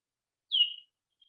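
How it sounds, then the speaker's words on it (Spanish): A single short high chirp, thin and bird-like, from bats, rising briefly then trailing off, followed by silence and a faint second tick. "Esto es cómo se escuchan los murciélagos"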